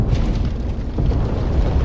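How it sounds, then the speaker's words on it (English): Grenades exploding in Halo Wars give a continuous deep, rumbling roar that stays loud and dense from start to finish, with no clear separate bangs. "just grenade them. Should clear them out."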